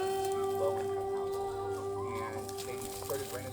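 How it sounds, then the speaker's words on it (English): A flock of chickens clucks and murmurs nearby at an overnight camp in an abandoned Pennsylvania ghost town, soft irregular clucks over a steady hum, with people talking faintly. "So many chickens."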